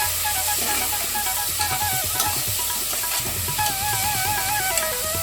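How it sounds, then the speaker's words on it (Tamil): Tomatoes and onions are lightly sautéed in a pan for hotel-style idli sambar, with a continuous sizzling hiss and occasional stirring under steady background music. "இப்போ அந்த தக்காளியும் லைட்டாக வதக்கிக்கலாம்."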